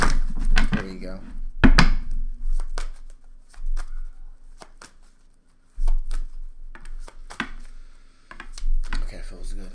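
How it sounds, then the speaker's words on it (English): Tarot cards are shuffled in a few quick riffling bursts with soft taps and handling noises between them, close by, with someone talking intermittently. "One more shuffle will do it"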